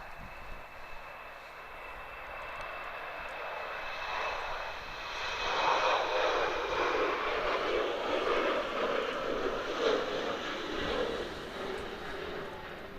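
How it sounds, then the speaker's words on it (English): Austrian Airlines Embraer jet rotating and climbing out of Manchester Airport in wind and rain, a broad engine roar that swells from moderate to loud midway and holds steady, heard at a distance without talk. "Austrian Embraer there, just rotating on out of Manchester Airport."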